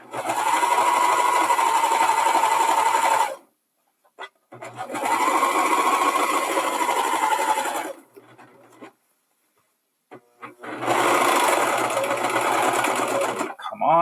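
A serger stitches a stretched lettuce hem in three long, steady whirring runs with brief pauses between them, close and fairly loud, with no voices.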